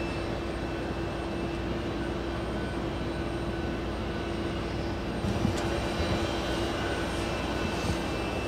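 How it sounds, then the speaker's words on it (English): A KLM Boeing 787 arriving from Amsterdam touches down on runway 4 right at JFK, a steady distant airliner roar with a faint steady engine whine, swelling slightly toward the end. "KLM 641 flying in from Amsterdam, 787. Yeah, the beautiful KLM touching down on 4 right"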